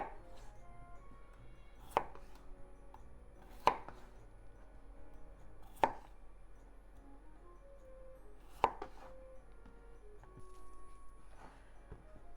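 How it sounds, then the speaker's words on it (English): A knife cuts potatoes into chunks on a cutting board, giving five sharp, isolated chops spaced a couple of seconds apart in an otherwise quiet kitchen. "Cut into chunks, not too small."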